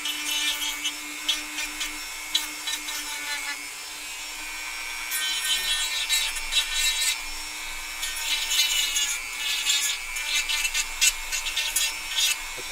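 Trimming a polymer AK-style magazine for a MAK 90 rifle, with close scraping and sawing strokes in uneven bursts over a steady low hum, no talking.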